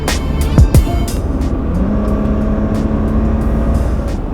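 A BMW E30 track and drift build car being driven, its engine giving a loud, steady close-up drone with a brief rise in revs near the start and rattles over the hum.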